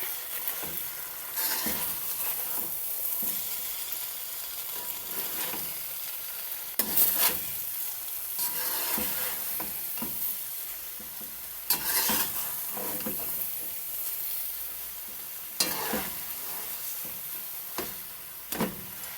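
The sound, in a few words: stirring macaroni and frankfurters in a pot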